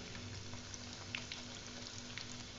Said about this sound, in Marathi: हलकासा बदामी कलर येईपर्यंत आपल्याला ह्या फ्राय करायच्या आहे